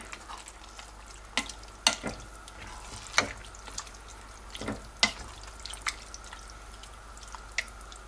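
Tinned tomatoes stirred into a pot of beef chili, with wet squelches and clacks of the spoon against the pot coming in irregular bursts over a low simmer, close and moderately quiet, without speech.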